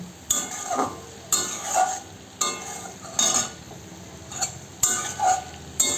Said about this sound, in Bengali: দিয়ে হালকা করে একটু নেড়ে আমি নামিয়ে ফেলবো